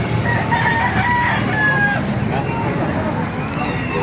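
A rooster crows at a chicken market in Baliuag, Bulacan, its calls standing out over a steady babble of crowd chatter and nearby voices.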